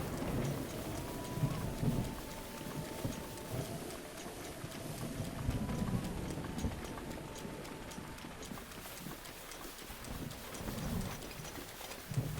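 Rain falls in The Legend of Zelda: Breath of the Wild as a steady, soft patter, mixed with clip-clopping horse hooves and a low rumble that fades toward the end.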